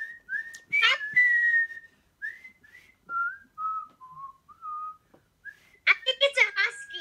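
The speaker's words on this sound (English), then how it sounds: "No, because I'm whistling." A person whistles a simple melody of short, clear notes with pauses between phrases, and a voice speaks briefly near the start and end.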